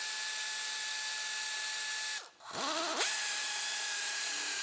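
A power tool with a 9mm turbo socket whirs steadily as an engine bolt on a Grand Am is removed, briefly dropping out and changing pitch midway before running on.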